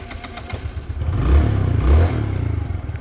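Peugeot Speedfight 3 scooter engine being started, a close mechanical clatter that catches into a couple of short revving surges before settling into a rough idle.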